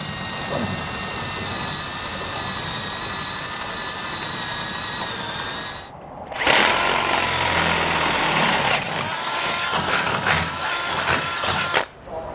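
A steady high-pitched whine of a power tool runs for several seconds, then a louder grinding drill bursts in close, cutting holes through a 2022 Ram 1500 truck frame before stopping briefly.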